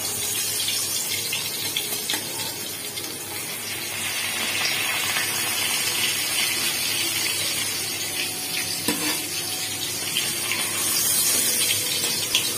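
Tap water runs steadily into a kitchen sink while vegetables are rinsed, a constant close hiss and splash with small shifts in flow and occasional clinks, no talking.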